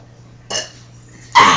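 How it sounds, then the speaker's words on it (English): A young boy's burp during a backyard burping contest with his brother, a loud rough belch bursting out at the end after a shorter throaty attempt, close up and alone. "I'm trying to burp."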